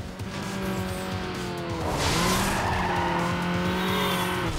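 Racing car engines whine at high revs with rising and falling pitch, tires squealing briefly midway, loud and continuous with a synthetic game-like tone.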